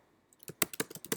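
Fast, irregular clicking of keys on a computer keyboard while someone types a search into notebook software, a quick run of sharp taps after a brief quiet lead-in, close and clear.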